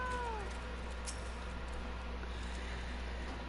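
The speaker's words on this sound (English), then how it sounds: "Good kitty." A single brief, faint meow from a cat in Final Fantasy XIV, heard at the very start over a steady low game hum, with no talking.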